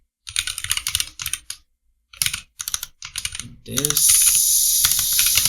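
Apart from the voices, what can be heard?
typing on a computer keyboard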